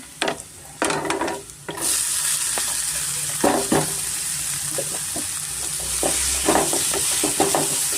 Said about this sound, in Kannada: ಈರುಳ್ಳಿನ ಚೆನ್ನಾಗಿ ಫ್ರೈ ಮಾಡ್ಕೊಬೇಕಾಗುತ್ತೆ